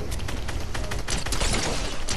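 Rapid bursts of gunfire in the video game Fortnite, dense overlapping shots crackling steadily throughout at close range, with no talk over them.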